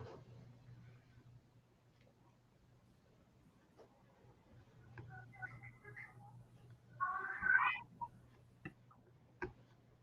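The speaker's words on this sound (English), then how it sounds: "Is somebody meowing?" A faint cat meow rises briefly over a quiet background with a low hum and occasional soft ticks and clicks.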